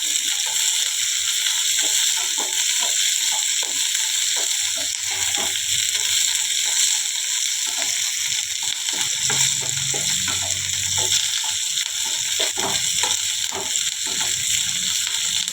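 Green chillies frying in hot oil for gongura pickle, giving a continuous close sizzle with scattered small pops and crackles and a few soft stirring scrapes.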